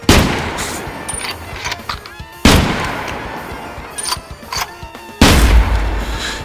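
Three loud, sharp 7.62x54R SNB gunshots fired at extreme-tier armor in the Exfil Zone shooter game, spaced a couple of seconds apart, each a booming crack followed by a fading tail.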